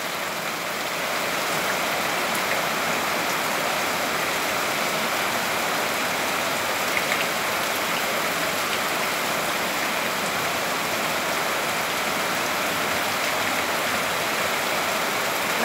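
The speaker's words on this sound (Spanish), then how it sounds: "Qué hermosura de lloveria." Heavy rain pours down at a ranch as a steady, dense hiss that stays even and close for the whole stretch, with no voices.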